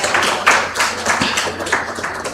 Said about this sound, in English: let us welcome all our esteemed dignitaries on the dais with a huge round of applause